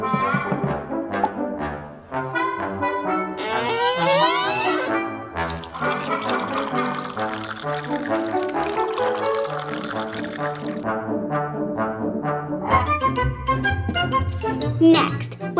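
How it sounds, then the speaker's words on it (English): Water is poured through a funnel into an empty plastic bottle, the rising gurgle and splash of filling running continuously, mixed with music or other tonal sounds. "carefully fill it up with water."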